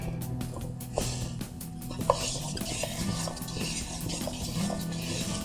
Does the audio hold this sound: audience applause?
no